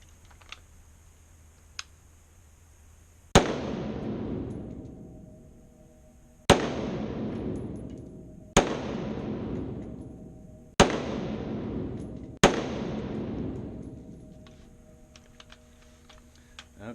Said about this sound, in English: Shooting right-handed for me, which is my weak side, gun's moving all over the place.